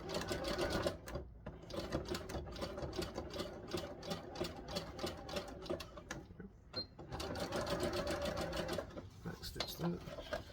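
An electric sewing machine backstitches elastic onto wrestling tights in short rapid bursts of whirring stitches, stopping and restarting, with a person talking over it.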